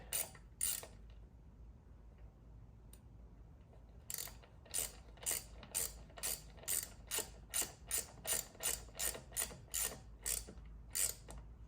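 Ratchet torque wrench tightening the drain plug on a Harley-Davidson Milwaukee-Eight motor, giving a few clicks, then a long steady run of about fifteen evenly spaced sharp ratcheting bursts, close and clear with no talking.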